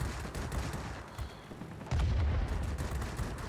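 Aircraft machine guns firing in World of Warplanes from an I-153P DM-4 fighter: dense rattling bursts with a heavier, louder stretch midway, no talk.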